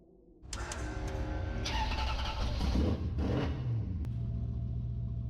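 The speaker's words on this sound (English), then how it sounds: "The car." Car engine cranking and catching, then settling into a rumbling idle with a brief rev, close and loud, used as a sound effect in a scary-poem audiobook.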